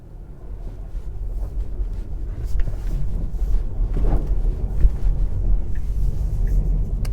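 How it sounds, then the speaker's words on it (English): A Tesla on FSD Beta pulls away from a driveway, a low rumbling road and motor drone that builds gradually over several seconds, with a faint thump partway through and no talk. "a little bit of excessive throttle input there from FSD Beta to start off with"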